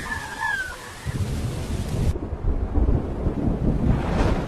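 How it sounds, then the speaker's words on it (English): Heavy rain pours in the Amazon rainforest with rumbling thunder, a dense loud roaring wash that swells after a brief bird call at the start. "The Amazon rain begins to pour, lashing against the broad leaves with a thunderous roar."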